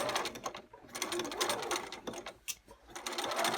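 Sewing machine stitching a quilt block, a close, fast mechanical whir with rhythmic needle clatter that runs in bursts with brief pauses.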